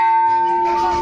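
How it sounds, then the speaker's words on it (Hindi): The large bell at Kankalini temple rings with a loud, sustained metallic tone, steady pitch and shimmering overtones filling the whole moment, close by. "और इधर सबसे बड़ा घंटा"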